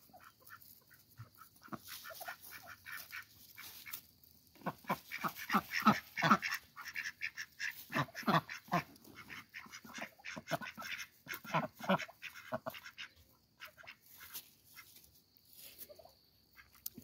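Ducks kept on a small farm in the woods, with a busy run of overlapping quacks and fowl calls at close range, rising into loud bursts in the middle and continuing irregularly to the end, no talking.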